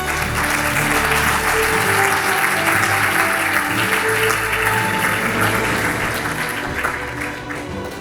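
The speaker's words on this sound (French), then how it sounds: "Vous pouvez l'applaudir." Audience applause as an author is called up at a book awards evening, loud, dense clapping with music playing under it, easing slightly toward the end.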